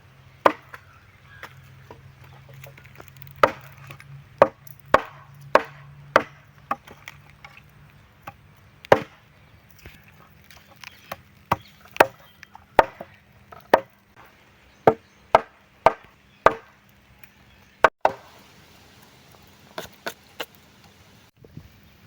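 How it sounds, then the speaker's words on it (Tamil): A knife or cleaver chopping chicken into pieces outdoors in a village forest setting, about two dozen sharp, distinct whacks at an irregular, unhurried pace, close and crisp with quiet between strikes. "பார்த்து விட்டு கரெக்டான பீஸு கரெக்டான சைஸில் வெட்டணும்"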